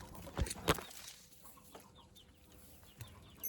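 A broody hen gives a few short, low clucks, one after another, then quiets, close by and fairly faint over background noise.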